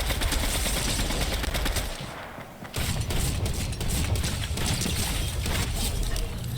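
Sustained, heavy gunfire in the Fortnite battle game, with rapid shots packed into a continuous loud barrage and a brief lull partway through.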